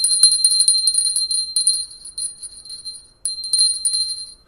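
A small bell rings repeatedly in shaken bursts, bright high metallic tones with sustained ringing, pausing briefly and then resuming, clear and close with no talk over it.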